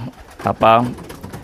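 A high-flying racing pigeon gives a short, close coo followed by a longer, throaty, rolling coo, loud and alone.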